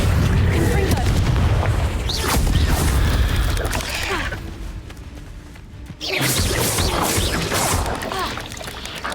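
Confringo, a fire spell in Hogwarts Legacy, sets off deep rumbling booms: a heavy roar fades, then a fresh, loud blast hits and trails off over busy ambient game sound.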